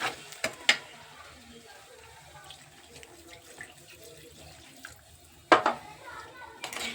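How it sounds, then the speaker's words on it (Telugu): Water splashed into a pan of crab curry in two short bursts, separated by a quiet stretch of faint kitchen background noise. "వాటర్ పోసానండి"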